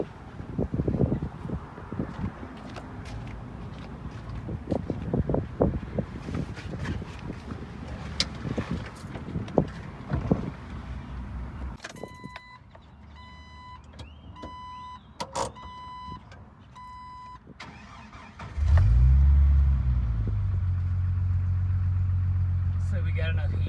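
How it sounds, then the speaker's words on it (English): A Jeep Wrangler TJ with a modified exhaust idles in a low, steady rumble that swells louder near the end, after scraping and handling noises and some talk earlier. "Let it idle for a second."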